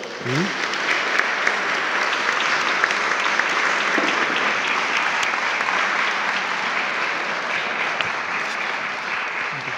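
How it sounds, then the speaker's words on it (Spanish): Sustained audience applause at a parish church book presentation, a dense, even roll of clapping that holds for nearly ten seconds, with faint voices beneath. "Y yo le pido también un aplauso para Antonio"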